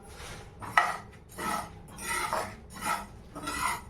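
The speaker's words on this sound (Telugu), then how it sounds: "బాగా మిక్స్ చేయండి, కలపండి." A spoon mixes corn pakoda batter in a bowl, making about five soft, close scraping strokes in an even rhythm with small clinks against the bowl.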